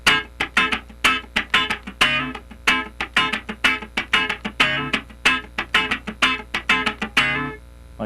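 A funk rhythm guitar pattern in D with a straight feel repeats crisp, percussive strummed chords and muted scratches in a tight, syncopated groove, clear and up close with no voices.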